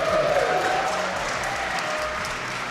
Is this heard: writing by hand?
no